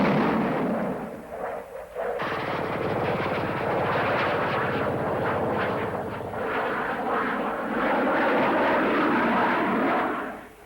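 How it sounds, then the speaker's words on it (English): A SEPECAT Jaguar jet flies low and fast, its loud, rough engine roar swelling suddenly and holding as a dense, turbulent rush before fading at the end. "With Jaguar, I find that one can fly close to the ground with much more confidence."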